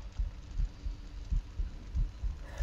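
Heartbeat in a horror video game, a low, muffled thumping in steady paired beats, repeating about four times over a quiet background.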